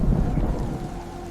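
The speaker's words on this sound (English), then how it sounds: "Rain crashes against the rainforest with unstoppable force, while thunder echoes through distant valleys." Heavy rain pours down in the Amazon rainforest during a thunderstorm, a dense continuous roar with deep rumbling thunder underneath, loud and steady for the whole stretch.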